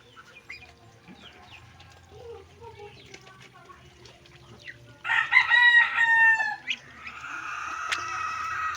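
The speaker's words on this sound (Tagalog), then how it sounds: "Yan tayong mga manok dyan." A rooster crows loudly nearby on a farm, followed by a long stretch of excited chicken clucking and squawking over a low background murmur.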